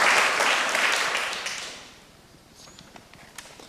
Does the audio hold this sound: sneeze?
no